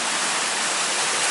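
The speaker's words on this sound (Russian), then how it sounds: "Вот сейчас мы находимся над тем местом, где выходит река." A mountain river surges steadily out of its source, a loud, dense, unbroken broadband roar of rushing water heard up close with no pauses and no voices.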